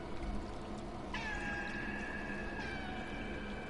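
A cat meows twice in the video game Stray, two drawn-out, fairly loud calls over a low steady background hum, with no talking.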